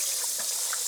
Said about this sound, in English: Let me rinse it off right quick.